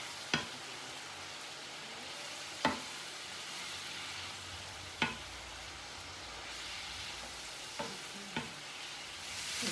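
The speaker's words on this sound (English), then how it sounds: "4 minutes until that wine cooks down a little bit" Wine simmers and reduces in a pan with a soft, steady sizzling hiss, broken by several sharp clinks of a utensil stirring against the pan; quiet and close, no talk.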